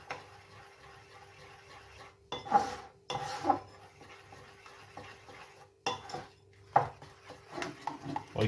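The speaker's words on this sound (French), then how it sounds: "on mélange bien" A spoon stirs and scrapes a mixture around a bowl while making dôme grenoblois pastries, giving intermittent soft scraping strokes with a few sharper clinks against the bowl, close and fairly quiet.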